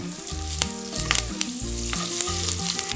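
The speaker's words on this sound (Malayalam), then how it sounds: "പിന്നെ അതെല്ലാം കൂടെ ഒന്ന് വഴറ്റിയെടുക്കണം" Green chillies, turmeric, asafoetida and curry leaves sauté in hot oil in a pan, crackling loudly and closely, while a spatula scrapes in quick, irregular strokes over a low background hum.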